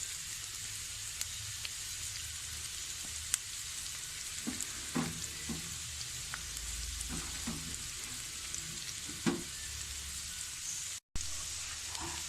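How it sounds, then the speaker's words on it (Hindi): Garlic and onion frying on a medium flame for aloo Manchurian make a steady, even sizzle throughout, with occasional soft stirring clinks and scrapes of a spoon in the pan. "जब तक लहसुन और जो हमारा प्याज है वो लाइट गोल्डन नहीं हो जाते। हमने इसको भूनना है,"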